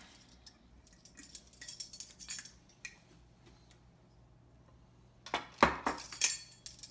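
A metal measuring spoon clinks against a bowl as three tablespoons of sugar go into a cheesecake crust mixture, giving scattered light taps and then a louder burst of clatter near the end.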